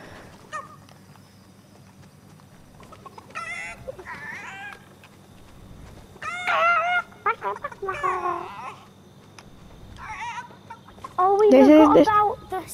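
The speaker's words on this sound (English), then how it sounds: "That's my chicken." A pet chicken clucks in several short bursts, close and fairly loud, with the final burst being the loudest, separated by quieter gaps of room noise.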